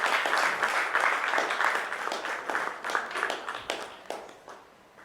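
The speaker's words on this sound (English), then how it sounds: "Let's give her a huge round of applause." An audience at a procurement leaders summit panel gives a sustained round of clapping, dense at first and then thinning out and fading toward the end.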